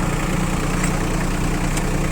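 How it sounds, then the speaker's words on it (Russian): A blue tractor loader's engine idles in a loud, steady, low rumble that holds unchanged throughout, close by and with no voices. "Погрузчик на холостых очень и очень оперативно работает"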